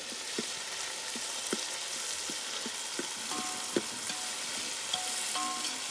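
Tomatoes frying in oil in a pan over a wood-fired village stove, a steady crackling sizzle punctuated by regular scraping strokes of a stirring spoon, with no talking.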